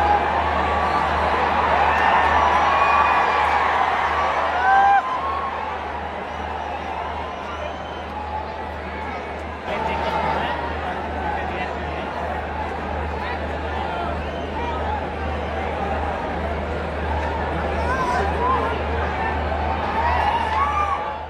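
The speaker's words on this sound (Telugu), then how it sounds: "ఒక్కసారి స్టేడియంలో అరుపులు ఎలా ఉంటాయి మీరే వినండి." Dense crowd roar from a packed cricket stadium at an IPL match, with steady shouting, cheering and babble that holds throughout, swelling slightly at times.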